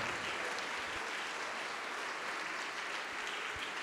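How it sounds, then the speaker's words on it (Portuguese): Congregation applause inside a church, a dense, even wash of clapping heard at moderate distance, steady for the whole span with no voices on top. "Vamos aplaudir mais ao nome de Jesus."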